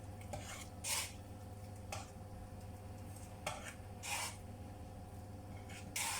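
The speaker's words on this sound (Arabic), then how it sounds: "وغادي نحرك مزيان" A spoon stirs Asian soup in a pot, making a few faint, separate scraping and swishing strokes spread over a quiet background with no voices.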